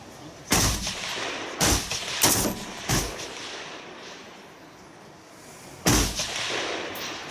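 Rifle shots at a 300 m field shooting event, with a Stgw 57 and a bare Schmidt-Rubin G11 firing: five sharp, loud cracks at irregular spacing, each followed by a short echoing tail over quiet outdoor ambience.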